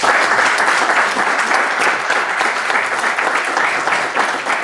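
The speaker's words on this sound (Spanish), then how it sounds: "Un aplauso a Juan Carlos Bachet, por favor." Sustained applause from an audience at a book-launch gathering in an institute hall, many hands clapping together in a loud, even wash that holds steady throughout.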